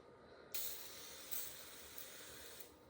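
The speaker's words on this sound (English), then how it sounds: "I'm using Faultless spray starch" A steady, fairly quiet hissing of Faultless spray starch sprayed onto a cotton and linen quilt runs almost continuously, with short bursts as the nozzle is pressed again.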